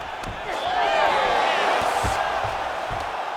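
Arena crowd in the UFC 5 video game, in a simulated women's MMA bout, roars as a fighter reverses position, a dense sustained swell of cheering that rises quickly and holds loud for the rest of the moment.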